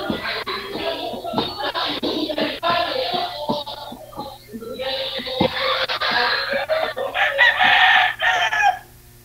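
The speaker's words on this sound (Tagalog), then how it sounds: "Kaya pala may mga manok din eh." Chickens cluck busily at close range on a small farm where pigs are also kept, and a rooster crows loudly in longer calls over the flock before everything stops abruptly.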